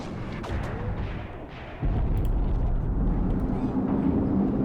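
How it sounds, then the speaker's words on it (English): Machine gun fire rattles in a war video game set in the African Border War, a dense burst of gunfire and rumbling battle noise, steady and moderately loud, with a heavier boom partway through. "We've got some machine gun fire going to that AT gun back here."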